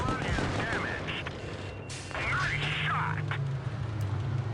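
Tank cannon fire in a World of Tanks style video game, sharp booming shots and crackling impacts amid steady battle noise, with someone talking over it.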